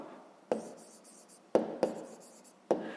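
Handwriting on paper during a fifth-grade maths exercise, four distinct pen or chalk strokes with short scratchy taps spaced irregularly, close and fairly quiet with no talking.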